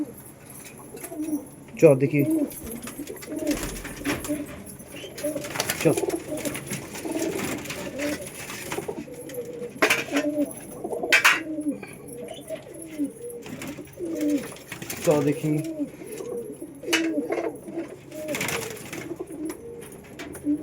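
Several pigeons coo repeatedly at close range while being fed, their low rolling calls overlapping in a busy chorus, with someone speaking briefly among them and occasional sharp clicks and knocks.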